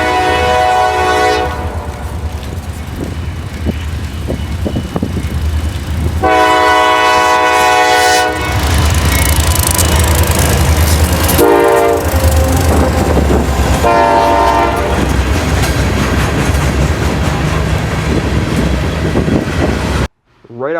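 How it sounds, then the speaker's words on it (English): An eastbound CF&E freight train led by a freshly repainted Dash 8 locomotive passes near Dolton Junction, loud and close, with repeated long horn blasts over a steady rumble and clatter of rail cars. "we find an eastbound CF&E train with a freshly repainted Dash 8 on point."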